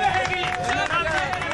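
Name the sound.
audience applause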